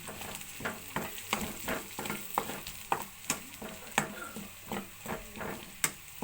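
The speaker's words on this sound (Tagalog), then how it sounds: "Gisa na ako ng bawang." Garlic fries in hot oil in a home kitchen pan, a constant low sizzle punctuated by regular spatula scrapes and taps roughly every half second, close up with no talking.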